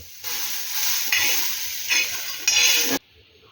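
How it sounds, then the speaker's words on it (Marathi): Finely chopped tomato roasting on a hot tawa for a spicy cauliflower curry gives a steady, close sizzle with bright hiss, swelling in short bursts as it is stirred, then cutting off abruptly near the end. "एक छोटासा टोमॅटो मी इथे बारीक चिरून घेतला आहे आणि तोही आपण या तव्यावर थोडेसा भाजून घेणार आहोत"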